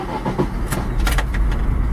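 A Chevrolet Niva pulls away with a steady low engine rumble, joined by short mechanical clicks and clunks from the cabin, fairly close and loud.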